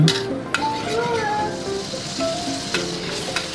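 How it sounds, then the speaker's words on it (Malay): Busy, continuous sizzling of ground chili paste frying in plenty of hot oil, with crackles and occasional faint clinks, close and fairly loud. "tumis cili kisar ni sampai dia pecah minyak tapi ni hebat minyak banyak"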